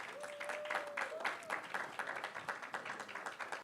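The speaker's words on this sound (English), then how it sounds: "That applause" Audience applause at a book launch during a communications mentorship conference: a steady, dense patter of many hands clapping for a few seconds, with a faint sustained tone running through the first half.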